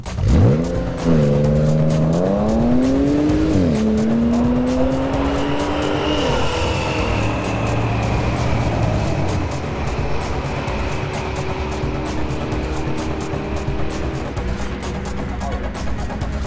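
A stock 2013 Audi S4 launches down a quarter-mile drag strip, its engine revving hard through rising gear pulls and shifts before settling into a sustained loud drone, with no voices over the run.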